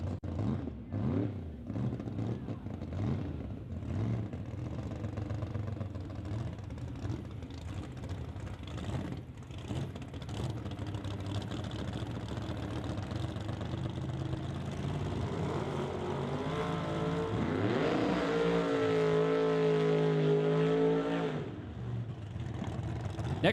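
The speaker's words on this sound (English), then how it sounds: "completing their burnouts, Neil Richards in the TCS lane" Drag racing cars completing qualifying burnouts at a Canada Day drag strip event, a loud sustained engine roar with rising revs and tire squeal near the end, continuous throughout.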